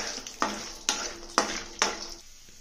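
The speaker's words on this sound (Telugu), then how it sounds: "ఇప్పుడు దీనిలోనే ఈ పల్లీలు వేసి వేయించుదాం." Peanuts frying in a pan for a coriander and roasted gram chutney, with broadband sizzle and four sharp scraping stir strokes repeating about every half second, close and fairly loud.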